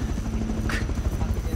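A helicopter in the video game Rust gives a steady, loud rotor thump with a constant engine hum throughout, under a faint voice.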